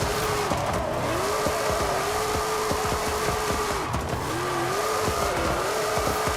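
Tires squeal in long wavering sweeps as a car drifts in Forza Horizon 5, driven with a steering wheel, the steady engine roar underneath, loud and continuous with no talk.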